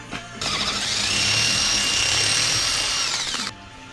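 A power drill bores mount holes into a welded steel bracket for a 1/14 scale lowboy trailer, a steady high whine holding for about three seconds before cutting off, loud and close with no talk.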